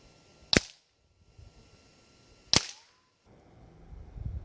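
Two sharp, close cracks from a Nova Freedom PCP air rifle with built-in pump, fired about two seconds apart while sighting in at 35 yards outdoors, with quiet in between.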